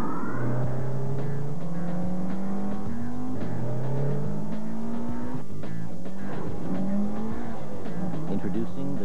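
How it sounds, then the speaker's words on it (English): A 240-horsepower Honda S2000 Roadster engine revs hard, climbing through the gears in repeated rising sweeps with brief tire squeal. The engine roars loud and close beneath a voice speaking over it. "Introducing the 240 horsepower S2000 Roadster from Honda."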